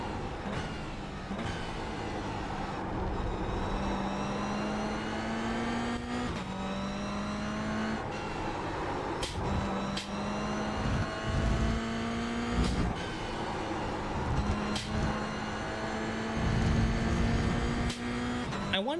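Toyota GR86 engine revving and accelerating on the Okayama race track, a steady onboard drone rising in pitch through repeated throttle pulls, with brief dips between gears or corners.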